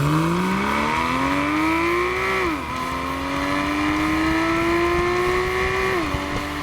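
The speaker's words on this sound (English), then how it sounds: "I like the button you press to make the exhaust louder" A sports car engine revs loudly and steadily, its pitch climbing, dropping sharply, then climbing again with a brief crackle at the end.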